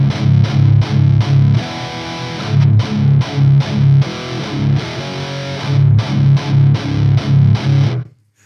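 A distorted electric guitar plays through a Hughes & Kettner TriAmp Mark 3 amp, giving heavy, doomy chugging riffs in loud rhythmic bursts with short pauses between them, then it cuts to silence.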